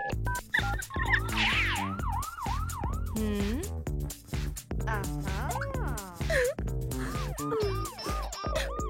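An ambulance siren wails in a looping up-and-down pattern, close and fairly loud, mixed with other sounds and overlapping pitched tones throughout.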